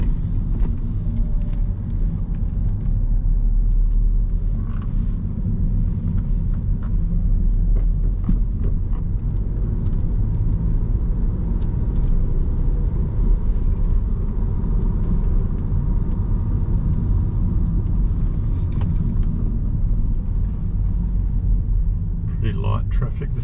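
A car engine's steady low rumble with road noise while driving home through light afternoon traffic, loud and continuous throughout, with faint cabin sounds over it.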